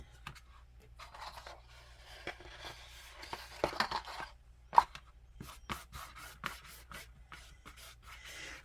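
Paint being spread with short scraping strokes across a masterboard card for crafting tags, quiet rubbing and scratching passes in an irregular rhythm, close up with no talking.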